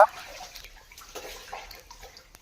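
Water runs steadily through a small stream beside the Nagavalli river, a soft continuous trickle and wash heard close up with no one talking.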